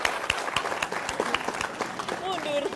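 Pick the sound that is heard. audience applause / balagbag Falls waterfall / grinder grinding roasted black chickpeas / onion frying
audience applause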